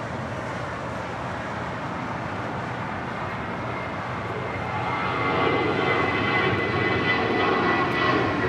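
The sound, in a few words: Embraer E175LR jet airliner arriving at LAX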